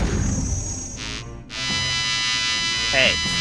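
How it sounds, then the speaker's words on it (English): A sharp electronic screech from a cat's paw resting on a button, a harsh buzzing tone that fills the clip with a brief dropout and a warbling chirp near the end. "apologies for the screeching sound you heard there. Keiko's paw was stuck on a button"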